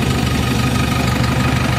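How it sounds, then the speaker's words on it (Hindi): A JCB 4x4 backhoe loader's engine idles just after starting, a loud, close, steady diesel rumble with a slight knocking throb and no voices. "इंजन स्टार्ट हो गया है इसकी"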